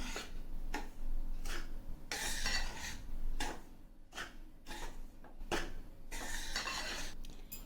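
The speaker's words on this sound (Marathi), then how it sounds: "आता हे सगळं मिश्रण छान मिक्स करून घ्यायचं आहे" Rava ladu mixture being mixed with powdered sugar in a bowl, with repeated scraping and clinking of a utensil against the bowl in an uneven rhythm, close up and without talk.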